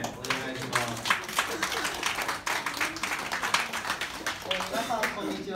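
An audience claps steadily for several seconds, a dense patter of hands with voices talking over it.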